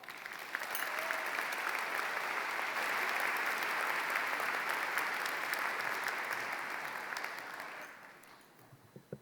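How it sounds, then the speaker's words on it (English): A big crowd at a high school graduation ceremony applauds the principal with a dense, loud, sustained clapping roar that swells and holds, then fades toward the end. "let's give a big applause for our fantastic, passionate, enthusiastic, and determined principal"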